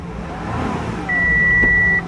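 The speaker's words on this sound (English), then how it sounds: "the engine is running" Audi Q7 engine idling with low steady rumble, joined midway by a sustained electronic warning tone for about a second.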